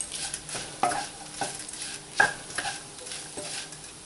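Red chili powder being stirred into sago khichdi in a pan, with a spoon scraping and clinking in several close strokes over a soft sizzle, no voices.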